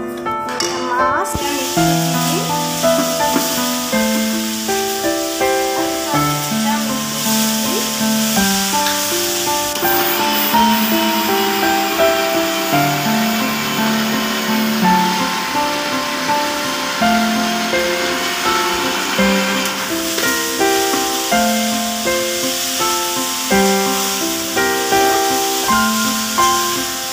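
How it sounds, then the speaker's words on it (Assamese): Sesame seeds roasting in a pan give a faint hissing sizzle under loud, continuous music that dominates throughout. "বনাবৰ কাৰণে মই ইয়াত তিলকেইটা ভাজি আছোঁ"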